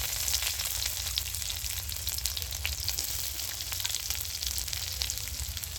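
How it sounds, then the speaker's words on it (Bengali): Onion fries in hot oil with tempered spices, a steady dense sizzle and crackle, close and continuous, no talk. "আমি এবারে পেঁয়াজটা দিয়ে দিচ্ছি।"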